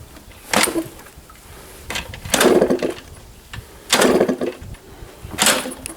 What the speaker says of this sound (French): On va tenter le kick